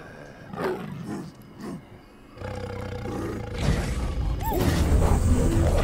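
A tiger roars in the video game Ancestors: The Humankind Odyssey, its deep growls rising over a rumbling jungle backdrop and growing louder and fuller toward the end.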